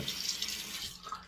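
Tap water runs steadily into a sink while a safety razor is rinsed of a wet shaving lather, a close, continuous splashing hiss.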